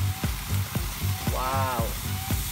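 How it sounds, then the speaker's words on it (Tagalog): Coconut milk hits a hot pan for a crab and squash dish and crackles there, a close, steady sizzle broken by regular stirring scrapes. "Lagyan natin siya ng gata."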